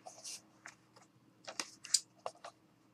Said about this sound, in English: So I got to cut another piece of foam.